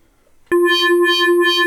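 A bright FM synthesizer preset tone from a Sonicware Liven XFM, with strong, steady harmonics, sounds for about a second, starting and stopping abruptly after a short quiet lead-in.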